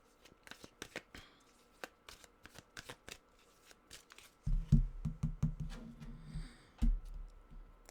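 Tarot cards are shuffled close up: a run of light, separate flicks and taps at first, then a denser riffling burst with thumps from the middle onward, all quiet, with no voices.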